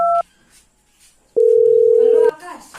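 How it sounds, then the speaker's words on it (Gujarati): A loud telephone ringback tone sounds while a call is placed: a short beep first, then a single long, steady tone after a pause. A voice follows faintly as the tone ends. "આકાશનો ફોન કરી દે."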